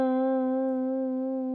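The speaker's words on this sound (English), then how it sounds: "It's got a little vibrato pedal on there" A single sustained guitar note with vibrato pedal modulation, held steady and close, ringing alone for under two seconds with a slight fade.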